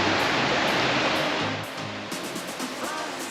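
Jueu river rushing past in the Pyrenees, a broad continuous roar of flowing water heard up close, steady and loud with faint knocks over it.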